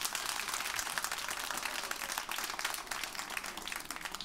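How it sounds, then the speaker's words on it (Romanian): Audience applause at a stand-up comedy show at The Comedy Store in London, a steady dense wash of clapping filling the room for several seconds without a break. "hai să aplaud oamenii care mă știu."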